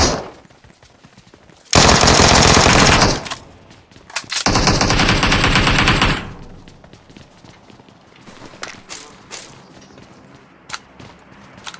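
Gunfire in the mobile battle royale game PUBG Mobile: two long, loud bursts of automatic fire, followed by scattered single shots and softer game sounds, with no talking.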